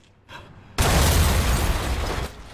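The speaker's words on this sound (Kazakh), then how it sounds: "Жардыруу" A loud explosion sound effect bursts in after a brief lead-in and roars as a sustained, dense blast for about a second and a half before cutting off.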